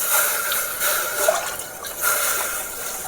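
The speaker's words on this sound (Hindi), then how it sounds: "हम सारा लिट्टी पहले हल्का पानी जाली पे मार देंगे" Water splashed lightly onto a grill mesh holding litti (Bihari baked dough balls) during a village-style litti chokha preparation, giving a soft continuous wet spatter with a few brief swells, fairly close, no talking.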